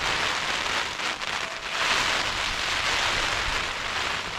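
Steady rain drums densely on a Naturehike Mongar 2 lightweight tent, a continuous close hiss of many drops with small surges in intensity and no talking.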